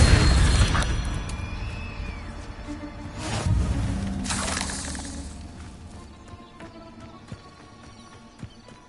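An Incendio fire spell cast in Hogwarts Legacy on PS5 bursts out in a loud whooshing flare, followed by a second booming blast amid game noise that fades toward a quieter tail.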